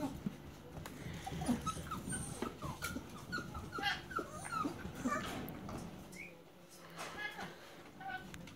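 Jackoodle puppies whimper and yip in a cluster of short, high cries close by, mixed with light rustling and a person talking over them.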